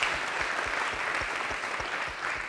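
Audience at a technology forum applauding a set of panel presentations, dense continuous clapping from a large crowd, even and sustained from start to finish.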